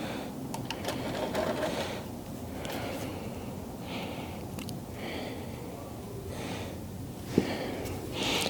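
Brake cleaner hisses from an aerosol can in several short, separate bursts onto parts of a neglected Chevy C10 pickup, over a low, steady background rumble.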